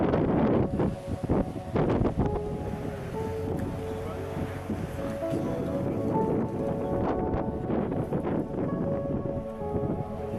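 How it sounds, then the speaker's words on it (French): Steady cold wind roars across the microphone at sea with the rush of open water and a sailing ship underway, loud and continuous. "un vent froid nous accompagne depuis notre départ des"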